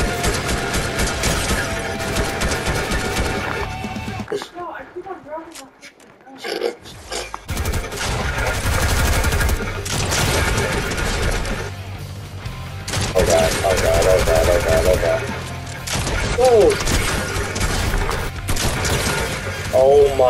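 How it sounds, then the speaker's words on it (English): Rapid, dense bursts of video game gunfire crackle loudly through a hectic online lobby, nearly nonstop apart from a brief lull, and someone talks over them. "Where am I getting shot from?"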